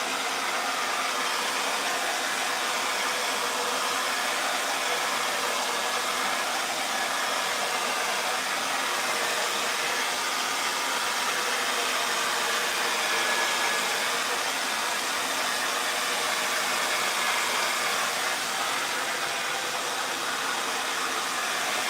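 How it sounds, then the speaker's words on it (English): A hairdryer runs steadily to dry a fresh wood finish on a table, held about 300 mm off the surface, giving a continuous, fairly loud broadband whoosh that holds even for the whole stretch with no talking. "So I'm not going too close to the hairdryer."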